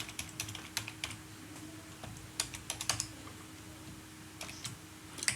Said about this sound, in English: I'll just type my password.